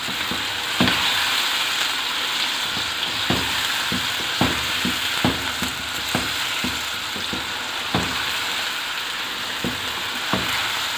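Chicken frying in a pan with ginger garlic paste for street style biryani, a steady loud sizzle broken by irregular scraping clicks of a spoon stirring, with no talking.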